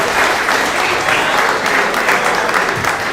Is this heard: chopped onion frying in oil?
no